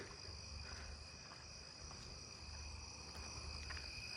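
Narrow-winged tree crickets trill in a continuous high, steady drone outdoors at night, faint and distant, with a softer low chorus of other insects or frogs beneath it.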